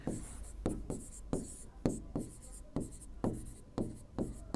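Chalk strokes scratch across a classroom board during a maths lesson, in a steady run of short, sharp taps and scrapes about every half second. No talk is heard.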